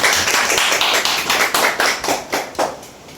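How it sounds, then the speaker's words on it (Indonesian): Audience applause at a positive school culture dissemination event at a vocational high school in Pati, heard as dense, close clapping with rhythmic bursts that swell and fade over a few seconds. "Tepuk tangan dulu."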